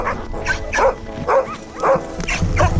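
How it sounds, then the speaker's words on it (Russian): Laika husky-mix sled dogs in Yakutia bark in a close, loud run of about five evenly spaced yelping barks, with other dogs and faint background noise around them. "А здесь лайки, помесь хаски с местными какой-то породы."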